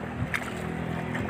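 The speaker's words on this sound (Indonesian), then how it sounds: "kita akan ke tambak dengan menggunakan perahu dayung" A rowboat being paddled across water toward a shrimp pond, a steady low watery wash and hull rumble with a faint splash or knock, close and continuous, with no voices.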